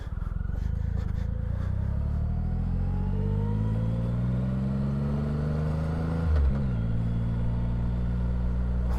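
A motorcycle riding around the block toward the beach, its engine close and droning as it climbs steadily in pitch, with a brief dip and recovery near the end; no talking.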